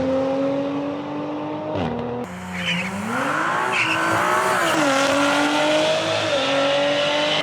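An 034 Audi RS5 makes a quarter-mile drag strip run, its engine roaring loud and close with rising revs, a brief shift dip near two seconds, then sustained hard acceleration and a touch of tire squeal.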